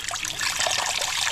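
Spring water from a farm water source flows strongly in a continuous, bright splashing trickle, close by and steady throughout.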